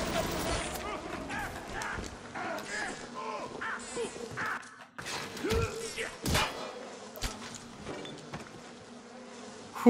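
Bees buzz in the video game Bioshock amid busy game effects and sharp bursts, with a voice talking over much of it.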